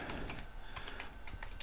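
Quiet, rapid keystrokes on a computer keyboard while entering details in a cPanel WordPress installer, a steady patter of clicks heard close and without speech.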